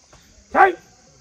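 A single short, sharp dog bark rises out of near silence, loud and close, with faint low noise before and after.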